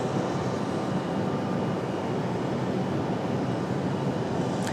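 Frontier Airlines Airbus A320 jet departing Raleigh-Durham International Airport bound for Orlando, its engines producing a steady, broad roar at moderate distance that holds constant throughout, with no talk.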